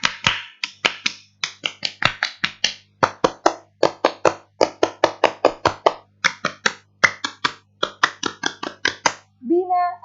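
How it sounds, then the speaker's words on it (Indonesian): Indonesian Pramuka scouts in an online fifth-grade class do the scout rhythmic clap three times: fast, crisp hand claps in repeated patterned bursts with short pauses, close and loud, and a voice at the very end. "3 kali tepuk pramuka"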